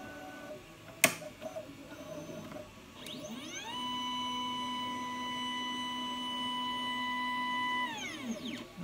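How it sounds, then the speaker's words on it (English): An Ultimaker 3 3D printer raises its build plate after a sharp click, its stepper motors giving a steady, faint electronic whine that rises, holds for several seconds and then drops away as the plate stops. "Now it's going to go ahead and lift the build plate up for us."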